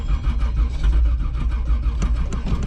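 A 1985 Oldsmobile Cutlass engine with a brand new carburetor running at raised idle, a loud, close, steady low rumble with slight fluctuations throughout.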